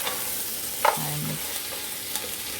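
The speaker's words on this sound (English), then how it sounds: "turning the meat. Make sure the onion and everything get into the meat." Meat being turned with onions and tomato paste in a pot for Haitian legume with crab gives a short sizzle with a brief scraping, clunking stir near the start, then a settled hiss with no voices.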